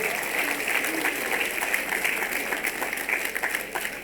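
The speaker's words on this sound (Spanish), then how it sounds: "Den un aplauso a la pastora." A church congregation applauds a woman pastor with faint, even, continuous clapping heard from a distance, steady for the whole stretch.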